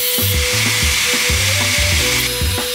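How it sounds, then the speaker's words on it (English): A drill cutting a hole for an O2 sensor in a 2JZ engine's downpipe whines in short repeated bursts under constant loud background noise, with no talking. "Here I was just making a hole for the O2 sensor"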